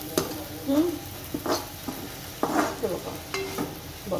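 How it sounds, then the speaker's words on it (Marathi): Mixed vegetables for hakka noodles stir-fry in sauce in a pan, with soft intermittent scraping and stirring and a light sizzle, under a woman's speech. "छानपैकी असं परतून घ्यायचं."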